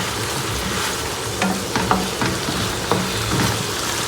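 Coconut rice with coconut milk cooking in a pot, making a loud, steady bubbling sizzle with occasional soft stirring knocks and no talking.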